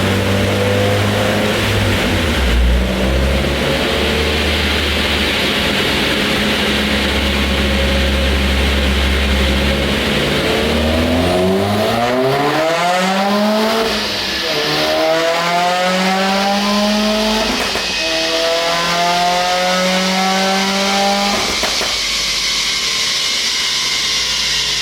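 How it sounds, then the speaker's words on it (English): A 2015-2018 Subaru WRX with a Perrin header and Q300 catless J-pipe exhaust idles loudly, then revs repeatedly, the engine note sweeping up and falling back in several sharp, close rises. "my exhaust, which I have a Q300 with a catless J-pipe"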